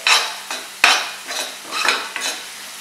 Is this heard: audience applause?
no